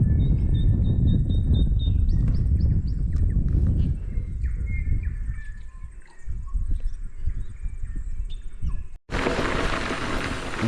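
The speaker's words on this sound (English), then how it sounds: "Listen to these birds." Birds in the New Zealand South Island countryside chirp and twitter at a distance over a low rumble of wind and movement, which cuts off abruptly near the end.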